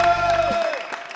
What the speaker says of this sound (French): Est-ce qu'on peut faire un tonnerre d'applaudissements s'il vous plaît pour Tony?